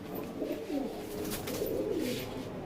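Pigeons coo steadily in a loft, soft overlapping low calls running throughout at close range with no talk.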